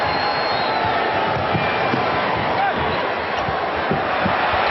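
A basketball arena crowd rumbles and jeers at Chicago player Stacey King during a 1992 Portland versus Chicago game, a loud continuous roar with sporadic thumps from the court beneath it.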